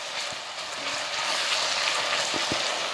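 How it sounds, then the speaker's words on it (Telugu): Ginger-garlic paste frying in a pan for a potato kurma gives off a steady, close, continuous sizzle that holds even and full throughout, with no one speaking. "అల్లం వెల్లిపాయ పేస్ట్ పచ్చివాసన పోయేదాకా వేగితే బాగుంటుంది"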